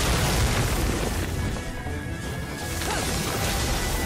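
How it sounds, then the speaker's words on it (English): A monster's wide-radius spin attack in Monster Hunter Online, fighting the Lightenna in a solo elite hunt, lands as a dense, loud crashing roar of impacts and booms that fills several seconds without pause, with no speech. "This thing attacks so fast and has such a wide radius with its spin attack."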